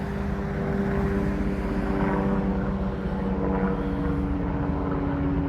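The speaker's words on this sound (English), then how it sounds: "I see that helicopter." Helicopter flying overhead in Montreal, a steady droning engine and rotor rumble that stays continuous and moderately loud over the whole stretch, with no speech.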